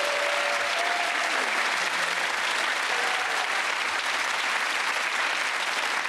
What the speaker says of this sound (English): give that round of applause for Desiree Burch.